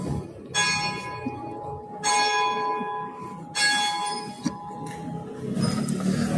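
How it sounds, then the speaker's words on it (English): Exeter College clock bell in Oxford strikes six o'clock, four ringing tolls spaced about 1.5 seconds apart, each with a long shimmering decay over faint street ambience. "the clock chimes of 6 o'clock of Exeter College"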